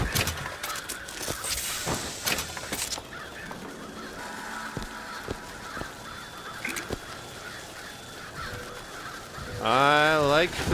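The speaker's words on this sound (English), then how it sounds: "I like the crows." Crows cawing from the Murder of Crows power in BioShock Infinite, a cluster of harsh caws over game noise and scattered clicks, ending in a loud warbling, wavering burst.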